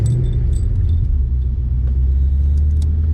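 Car with an AOD automatic transmission driving on the road on a hot day, a steady low engine and road rumble throughout, with faint small rattles like jangling keys.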